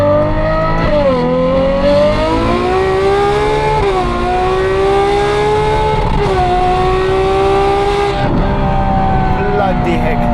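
Ferrari 812 V12 engine revving loudly while driving in Johannesburg, its pitch rising and falling through repeated acceleration and gear changes, close and continuous throughout.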